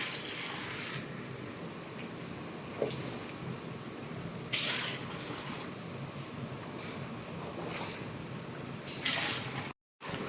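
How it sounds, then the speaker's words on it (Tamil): Hot water is poured into a pot of Chennai-style vegetable biryani, making a steady close splashing pour that runs continuously and cuts off abruptly near the end. "அப்படியே தண்ணியை சேர்த்து நல்லா மிக்ஸ் பண்ணி விட்டுருங்க"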